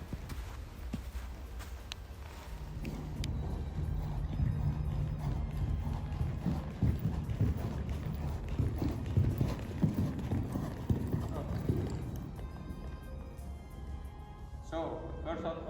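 Horse hooves clop steadily on the ground at a walking pace during Working Equitation training, close by, with a rider talking over them much of the time.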